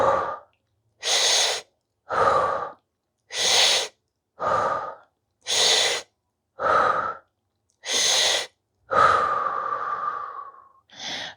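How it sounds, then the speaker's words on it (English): Mouth breathing during a hamstring stretch: a series of about eight even, forceful breaths alternating between inhales and exhales at a steady pace, close and clear, ending in a longer drawn-out exhale. "breathing through the mouth."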